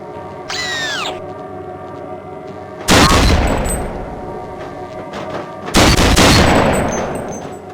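Weapon fire on a video game weapons range: two loud, heavy blasts a few seconds apart, each tailing off into a long rumbling decay over a steady electronic hum, with a brief rising synthetic chirp before the first.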